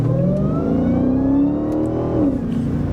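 A sports car pulls away in first gear at quarter throttle, its engine note climbing steadily with a smooth whine before easing off, loud and close with no talk.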